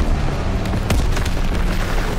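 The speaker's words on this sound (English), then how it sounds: "Incoming enemy artillery" A single heavy artillery shell bursts as a loud, low boom roughly a second in, set against a steady din of battle in the World War II shooter Call of Duty WWII. No one speaks.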